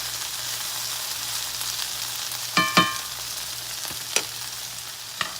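Okra frying in a hot iron skillet, a soft steady sizzle with a few sharp clinks and scrapes of a utensil against the pan.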